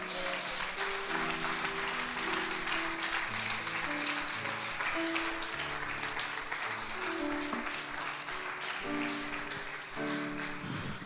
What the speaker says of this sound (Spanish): ¿Cuántos pueden decir amén y dar un fuerte aplauso para nuestro Dios?